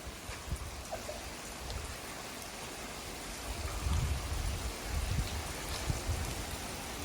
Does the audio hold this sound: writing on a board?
no